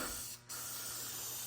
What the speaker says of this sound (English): I'm going to spray some more of this after I shake it up a little better.